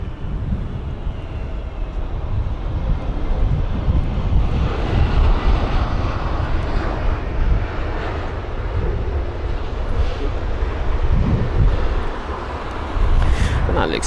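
A Scandinavian Airlines Airbus A320neo from Oslo lands at London Heathrow in windy conditions, its engines a broad, continuous roar that swells gradually over several seconds, with some wind buffeting and a voice faintly underneath.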